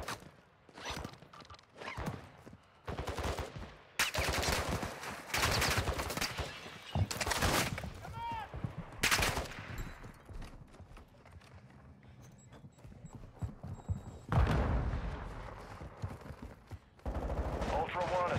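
Gunfire in Call of Duty DMZ comes in repeated loud bursts of rapid automatic shots, some sharp single cracks among them, with quieter gaps and game radio voices in between.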